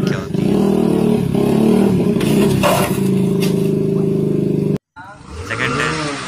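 A motorcycle engine revs loudly and steadily up close while the rider pulls a wheelie. The roar cuts off abruptly near the end and returns after a short gap, with voices speaking over part of it.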